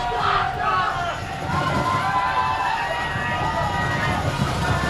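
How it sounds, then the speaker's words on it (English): High school football crowd in the stands cheering and roaring steadily throughout, a dense wash of shouts and babble with voices talking amid the noise. "the crowd is really going here"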